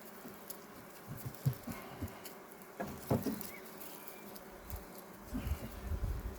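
Ukrainian steppe honey bees buzz around an open hive during a frame inspection, a close, low, shifting hum with scattered rustles and handling taps, no talking.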